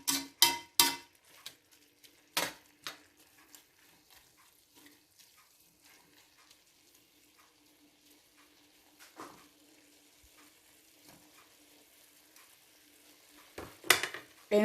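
Stir fry spaghetti being mixed in a pan, sharp scraping and clattering strokes over a faint sizzle, loudest at the start and end with quieter stirring in between.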